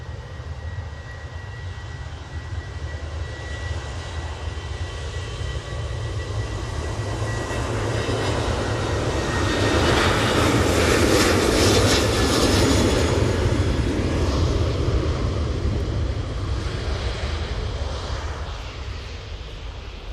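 Airliner rolling for takeoff at Manchester Airport on departure to Gdansk, a broad jet roar swelling steadily to a loud peak midway and then slowly easing as it climbs away.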